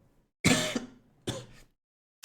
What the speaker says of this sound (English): Very sorry for coughing, guys.